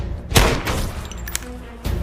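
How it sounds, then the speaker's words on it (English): A few sharp gunshots in an action movie, close and punchy bursts with a booming low end and a brief scattered rattle between them. "That was definitely gunfire."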